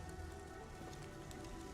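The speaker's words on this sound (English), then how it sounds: "Splattering rain." Steady splattering rain in the video game Arknights Endfield, a dense continuous patter with scattered droplet hits, moderately quiet and uninterrupted, with no voices.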